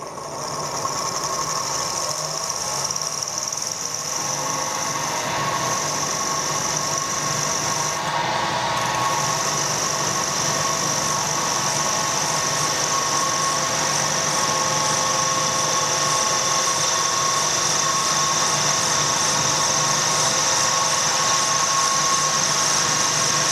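Steady machine whine with a constant high-pitched tone and low rumble from a Harrison L5 metal lathe cutting to 14mm depth, running continuously without pause.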